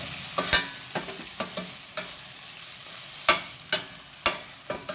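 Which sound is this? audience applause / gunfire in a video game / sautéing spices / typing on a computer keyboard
sautéing spices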